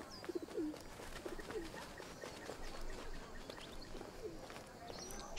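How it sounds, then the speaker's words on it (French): Pigeon cooing in the wildlife adventure game Alba, heard as a few short, low coos in separate bursts over a busy background of other game birdsong. "Pigeon!"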